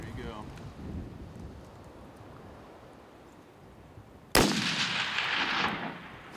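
A single sharp, loud rifle shot cracks out during a Coues deer hunt in the Mexican hills, following a long stretch of quiet wind and outdoor hush, and its echo rolls on afterward.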